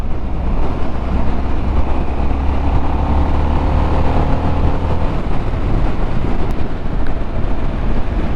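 A 2022 Harley-Davidson Sportster S motorcycle ridden on the road, with a steady, loud engine drone and rumble mixed with heavy wind buffeting across the microphone throughout.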